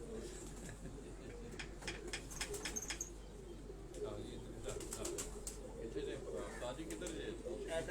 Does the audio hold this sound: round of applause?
no